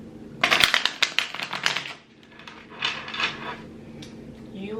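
A deck of tarot-style reading cards being shuffled up close, a quick run of crisp riffling flicks followed by softer sliding and tapping of the cards.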